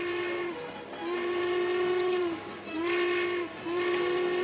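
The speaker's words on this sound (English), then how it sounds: "The train just pulled out." A departing train lets out a long, loud whistle in three sustained blasts with short gaps between them, carried over a low rumble of the rolling train and heard without any voices.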